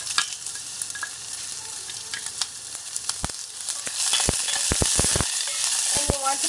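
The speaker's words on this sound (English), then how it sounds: "you want to brown the onions slightly" Onions, curry leaves and red chili frying in a hot pan of oil with mustard seeds for coconut chutney, a steady close sizzle with sharp crackling pops and splutters that grow louder and denser toward the end.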